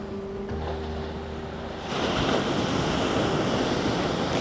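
Ocean waves wash onto a beach along the Lanzarote coastline near Playa Blanca, a steady broad surf roar that swells louder halfway through, mixed with wind buffeting the microphone.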